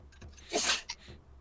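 A single loud, close sneeze bursts out after a short sharp intake of breath, followed by a small exhale.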